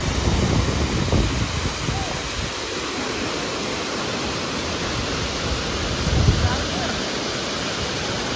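A waterfall in Kerala roars as a steady, dense rush of falling water, loud and close, with a brief swell near the end.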